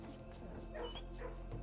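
In the video game Blue Prince, a dog in a kennel room gives soft yips and whimpery barks, faint and brief, over a steady low game-music background.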